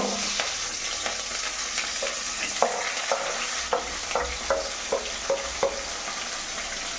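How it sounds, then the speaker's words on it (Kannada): Chillies and onions fry and sizzle in a pan under a steady hiss, with a spoon scraping and stirring in a string of sharp clicks through the second half, close and unaccompanied by speech. "ಒಂದು ಅರ್ಧ ಗಂಟೆ ಫ್ರೈ ಮಾಡ್ತಾ ಇದೀವಿ"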